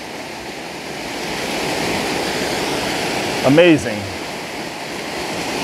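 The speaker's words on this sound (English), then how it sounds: "we have this gorgeous waterfall right here, tearing down" A steady roar of water from a waterfall tearing down just above a secret waterfall fills the scene, constant and close, with a short spoken exclamation briefly rising over it.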